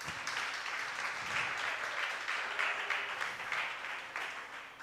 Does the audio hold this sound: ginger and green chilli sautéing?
no